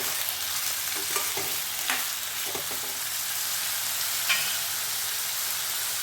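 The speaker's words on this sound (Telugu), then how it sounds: "ఒకసారి బాగా కలుపుకుందాం." Potato fry sizzling steadily in a pan while it is stirred, with a few soft scrapes and clinks of the spoon against the pan over a continuous close frying hiss.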